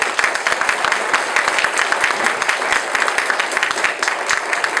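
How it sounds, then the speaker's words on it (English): A room full of people applauding at a gathering, a close, busy rattle of many individual claps that holds steady throughout. "Round of applause for them."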